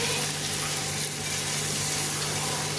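Capsicum frying in a pan for creamy white sauce pasta, a steady, close, loud sizzle with a constant crackling hiss throughout.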